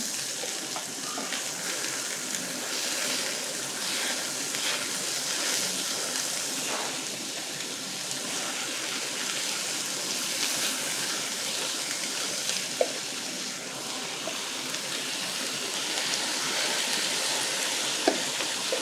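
Crumbled tofu dropped into a pan with onions and garlic for Pad Thai, giving a continuous moderate sizzle with a few sharp clinks, no talk.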